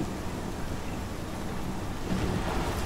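Pixelated rain in the video game Life Is Strange, a dense, steady hiss with a low rumble underneath, continuous and evenly loud for a few seconds, no talking.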